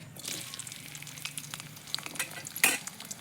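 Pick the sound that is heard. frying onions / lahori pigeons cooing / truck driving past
frying onions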